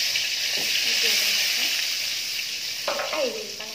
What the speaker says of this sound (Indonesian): kita akan menggoreng tomato.